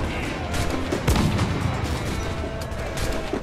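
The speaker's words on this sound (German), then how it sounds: "Oh, da habe ich irgendeinen Pulverfass getroffen." Powder keg blowing up amid cannon and gunfire during a naval battle in the pirate video game Assassin's Creed IV: Black Flag, a dense rumble of booms and blasts running throughout with one heavier burst near the middle.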